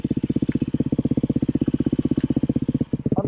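Beta 500 RS motorcycle engine running on a motocross track, a loud, close, steady rapid pulsing chug that holds even throughout, with a brief dip near the end.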